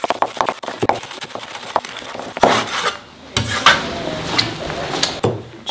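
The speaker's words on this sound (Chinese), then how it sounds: "辣椒切成丝儿" A knife slices a large green chili pepper into thin strips on a cutting board in a home kitchen, with quick irregular taps and scrapes close by, followed by a pause and then a few more scattered knocks.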